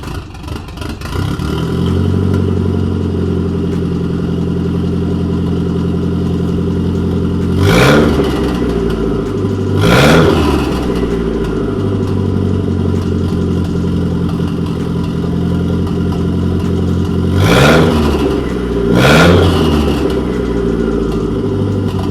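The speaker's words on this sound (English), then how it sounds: "It is time for the mandatory no exhaust start." Nissan S13 200SX engine running with the exhaust removed, a steady raw idle broken by four sharp revs, two close together near the middle and two more toward the end, loud and close with no talking.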